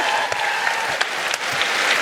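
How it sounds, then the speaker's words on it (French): Comedy-show audience applauding in a theatre, a dense sustained roar of clapping with a few louder individual claps standing out. "Applaudissez Steph, là."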